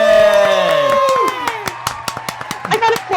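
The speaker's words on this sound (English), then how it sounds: "I got applause, thank goodness." A studio audience at a wrestling talk show claps and cheers loudly, with whoops and voices over sharp, scattered hand claps that gradually become sparser.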